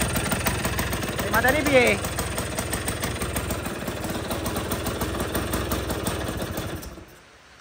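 Motorcycle engine idling steadily at close range, a continuous low rumble throughout with a short voice speaking early on before the sound drops off at the end.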